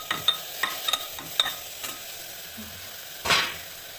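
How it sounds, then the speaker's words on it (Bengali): Grated carrot for halwa is stirred as it fries in a pan, with a series of sharp scraping strokes, a soft sizzle beneath, and one louder scrape near the end. "এটা একটু নেড়ে নেব যাতে গাজরের কাঁচা গন্ধটা চলে যায়"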